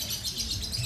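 A lovebird gives brief high chirps close by, mixed with a low background rumble and no talking.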